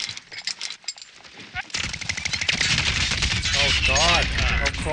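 Automatic gunfire in the Modern Warfare Warzone video game: sporadic shots give way to sustained rapid bursts, loud and close, with players talking over the shooting.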